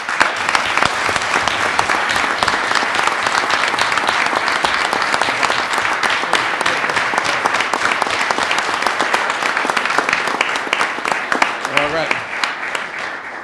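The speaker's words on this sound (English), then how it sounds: "hold applause as we get through this" A council meeting audience gives sustained applause, dense steady clapping filling the room for the whole stretch at a loud, even level, with a brief voice rising near the end.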